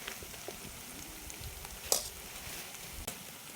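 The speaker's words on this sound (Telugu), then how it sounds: "ఇప్పుడు మనం చికెన్ వేసుకుందాం" Chicken goes into a curry pan at a campsite and fries with a soft, steady sizzle, broken by a couple of sharp clinks of a utensil against the pan, with no speech.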